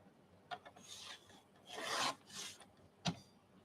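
Card paper being trimmed for card fronts, a few soft scraping, rasping cuts in irregular strokes, including one longer swipe and a sharp short snip near the end, close and quiet.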